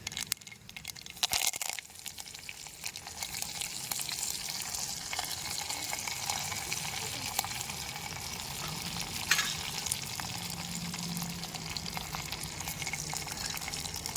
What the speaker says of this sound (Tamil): கடுகு பொரிய ஆரம்பிக்கிறேன்.